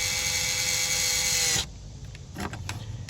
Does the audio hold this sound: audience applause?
no